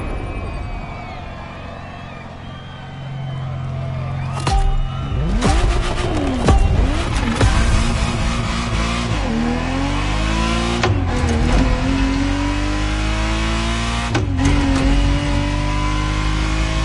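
A Ferrari Testarossa revs loudly and close, its engine note climbing and falling through several sharp throttle blips after a quieter idle, with faint talk in the background.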